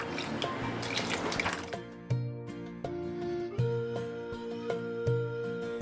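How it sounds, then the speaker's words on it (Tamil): Whey drips from curdled milk hung in a muslin cloth, falling as a sparse run of distinct, fairly close drops into liquid below, with no talk. "ஸோ இந்த எல்லா தண்ணியும் உங்களுக்கு வடிஞ்சு கிடச்சிரும்"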